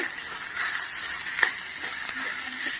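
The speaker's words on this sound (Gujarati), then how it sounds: "હવે આપણે મસાલો સરસ 2 મિનિટ આવી રીતે શેકી લેશું." Green chilli paste and spice masala roast in a pan for samosa keema chaat, a soft steady sizzle with a few light scrapes and taps as the mixture is stirred.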